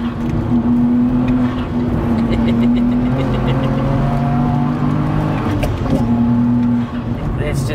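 Manual BMW E92 335i track car with limited-slip differential and traction control off, accelerating hard with a loud droning engine note rising and shifting pitch, heard from inside the car with voices talking over it.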